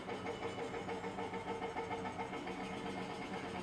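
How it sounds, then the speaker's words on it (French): An old tractor starting sound plays from the external speaker of a ZEEKR 7X, a steady chugging mid-pitched engine rumble with a pulsing rhythm, moderately quiet and without talk. "Le tracteur, c'est ça. Ça fait un vieux tracteur qui démarre."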